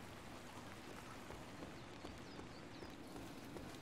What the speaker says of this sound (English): But Nico, it's raining